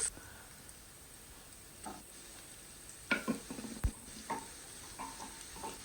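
Soft, steady sizzling of onion and carrot frying in a pan, with occasional stirring clatters and scrapes; no talking.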